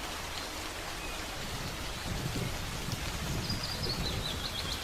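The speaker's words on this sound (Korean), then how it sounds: "숲을 적시는 빗방울이 공기를 촉촉하게 만들고 향긋한 나무 냄새를 실어옵니다" Steady soft rain falls through a Nordic forest, a continuous diffuse patter on leaves and ground with a faint bird call drifting in the distance and no talking.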